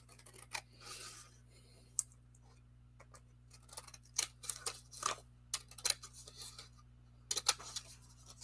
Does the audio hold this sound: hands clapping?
no